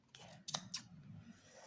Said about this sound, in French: On va couper les poils.